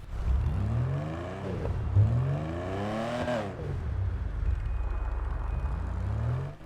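Stirling GT sports car in GTA 5 revs repeatedly, its engine note sweeping up and down in several rising and falling bursts, fairly loud and close with no talking over it.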